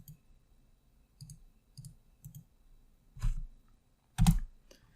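Single keys on a computer keyboard are pressed in a sparse run of soft clicks. Two louder, sharper presses near the end stand out clearly in a quiet room.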